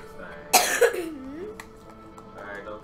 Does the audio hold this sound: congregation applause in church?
no